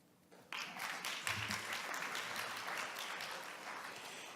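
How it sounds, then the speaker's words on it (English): An audience claps through the clip at a sustained, moderately loud level, beginning just after the half-second mark as scattered clapping and swelling into steady broadband applause. "All of you lovers, clap."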